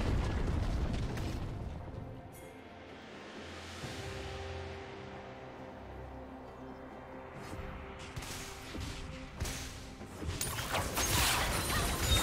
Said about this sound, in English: His turret has been destroyed.